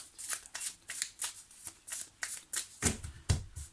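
Tarot cards are cut and drawn by hand in a series of crisp, rhythmic flicks and slaps, about a dozen quick strokes close by, with a firmer pair of snaps near the end.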